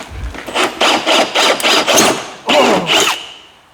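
A dull step drill bit bores a hole during a snowmobile build, a loud rasping grind in about eight short bursts with brief gaps, trailing off at the end.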